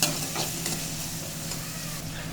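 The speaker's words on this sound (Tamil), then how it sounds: "நல்லா வெங்காயம் கொஞ்சம் ஓரளவு கோல்டன் ப்ரௌனாக" Onions sautéing in oil until golden brown for a drumstick sambar, a dense continuous sizzle with soft stirring, close and steady, with no voices.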